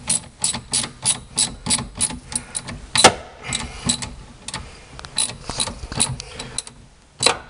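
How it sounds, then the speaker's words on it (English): A ratchet wrench tightening the battery terminal on a 2010 Toyota Prius, a steady run of close clicking strokes with a sharp clank partway through. "Then we set it to tighten. Okay, I'm going to tighten that bad boy up."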